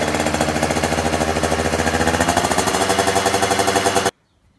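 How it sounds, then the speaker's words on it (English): A 50cc KTM SX two-stroke motocross bike engine running loud and close, a rapid buzzing rattle at a steady idle that cuts off abruptly near the end. "now going to start the bike. Just to warm it up a bit before the oil change"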